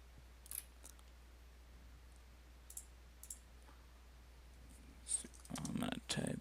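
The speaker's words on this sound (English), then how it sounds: "I'm gonna type" Sparse, light clicks on a computer keyboard during a chair design demo, a few isolated taps followed by a denser, louder burst of typing near the end against quiet room tone.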